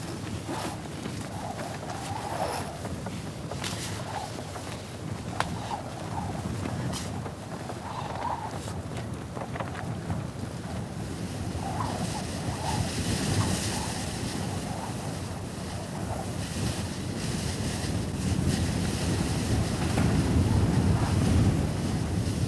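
Strong wind buffeting the microphone with waves and surf at a polar base, a constant loud roar that keeps building over twenty seconds, with no voices.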